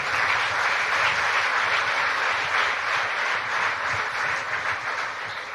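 An audience at a Gujarati Vachanamrut religious discourse session breaks into applause, a dense, steady crowd clapping that holds throughout and fades slightly at the end.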